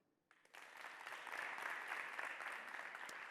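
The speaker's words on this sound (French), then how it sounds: "Ça doit s'applaudir." A school audience at a high-school trophy contest bursts into applause for the candidates, the clapping starting abruptly, swelling quickly and then holding as a steady, dense wash.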